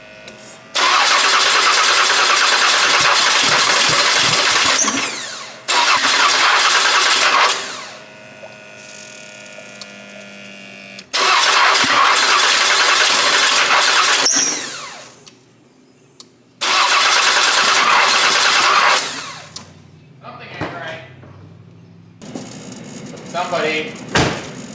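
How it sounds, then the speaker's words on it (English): A Buick Reatta's starter grinds through several long cranking attempts, each a steady loud whir lasting a few seconds, separated by pauses with quieter mechanical sounds; the engine keeps trying to fire without catching, recorded close by. "and then start the car"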